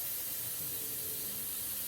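Steam hisses steadily from an Instant Pot during a pressure release, a loud, continuous broadband rush that holds constant with no pauses and no talking.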